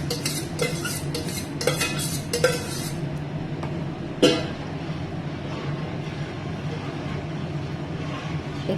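Rice, lentils and spices stirred together in a pot of boiling water with ghee for khichdi, a run of quick scraping and clinking strokes of a spoon against the pot, then a single sharp clank and a steady low bubbling rumble.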